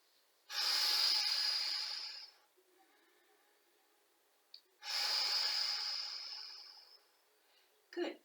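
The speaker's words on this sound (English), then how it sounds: "Big breaths, big breaths." Two long, deep breaths during a Hatha yoga sequence, each a loud airy rush through the nose lasting about two seconds, with a short sniff between them and another at the end.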